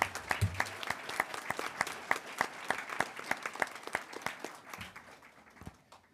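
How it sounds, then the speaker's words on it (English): A small audience at a city commission meeting applauds election results: distinct, fairly sparse claps from a modest group, heard at moderate distance, continuing evenly for several seconds before fading out. "Big round of applause."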